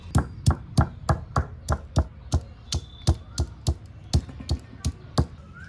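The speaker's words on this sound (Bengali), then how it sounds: "আদাটা অল্প থেতলে সব মশলা একসাথেই বেটে নিই" Ginger and whole spices crushed by hand on a stone grinding slab give a close, steady run of sharp knocking strikes, about three per second, with no voices.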